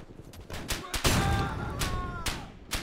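Flak gun in the WWII shooter Easy Red 2, during the Battle of Anzio: a string of sharp booming reports at uneven intervals, one heavier blast near the middle trailing off into rumble, with faint voices in the background.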